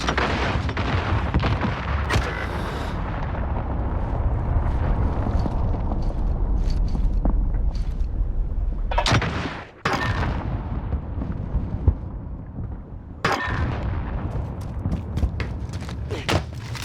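Heavy missile explosions in a video game battle roll as a continuous, thundering low roar, broken by a few sharp, bright blasts and one abrupt cutoff partway through.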